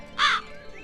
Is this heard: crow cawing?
yes